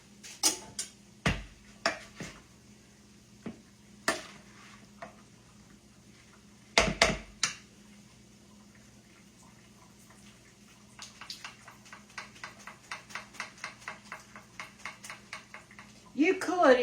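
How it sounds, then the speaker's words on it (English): A spoon clinking against a dish while stirring drained squash, starting with scattered taps and then turning into a quick run of light scraping clicks, with some talking in the background. "I think I'm going to get a spoon and stir it just a little bit to make sure"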